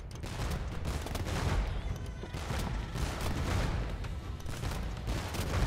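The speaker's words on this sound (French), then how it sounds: "Un pétard également pour faire le trou plus vite" Petard blasting a hole in a wall in a medieval strategy video game, heard as heavy overlapping booms and crashes amid a busy battle din, loud and dense throughout.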